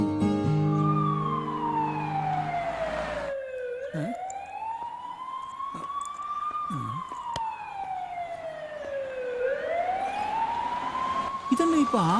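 An ambulance siren wails loudly nearby, its pitch sweeping slowly up and down in long repeated cycles, with some quicker yelping bursts and traffic rumble underneath.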